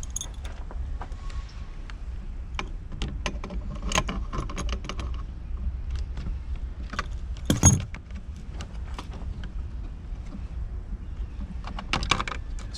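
A Kenworth 9-gauge truck dash panel being taken apart on a bench: quiet scattered clicks, light metallic clinks and fiddly handling noises, with one sharper knock partway through.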